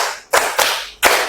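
A primary school class clapping together in a counted rhythm, three loud unison claps with short echoing decays in a classroom, the second following the first quickly and the third after a longer pause.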